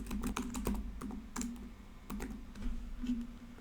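Rapid clicking keystrokes on a computer keyboard, typed in quick bursts with brief pauses, close and fairly loud over a low steady hum.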